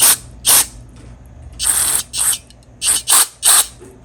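Aerosol can spraying into a Holley carburetor on a 1965 Chevrolet Nova in short hissing bursts, two quick blasts, a longer spray, then several more brief sprays, loud and close with no talking.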